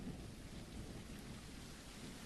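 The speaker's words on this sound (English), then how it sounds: "Starting to rain. You hear the rain hitting the ground." Continuous rain hitting the ground in a Middle-earth VR game, a steady close hiss with a low thunder rumble underneath, faint overall.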